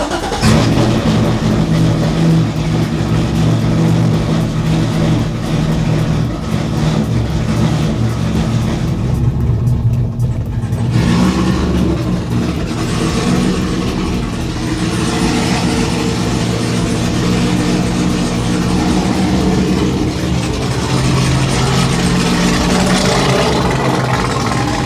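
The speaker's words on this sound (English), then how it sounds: "I'll show you guys a little startup video because it hasn't been started in about 2 weeks" Chevrolet C7 Corvette V8 started after sitting about two weeks, with a freshly installed battery, then revved; a loud, continuous engine roar fills the whole stretch with rising and falling revs and a brief dip midway.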